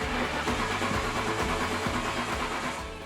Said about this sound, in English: unfortunately, the car won't start